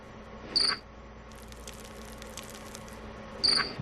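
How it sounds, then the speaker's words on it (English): Recorded cricket calls played back for a cricket tethered on a spherical treadmill, heard as two short, bright chirps about three seconds apart over a steady low hum, with a faint rustling patter between them. "they played cricket calls from different directions"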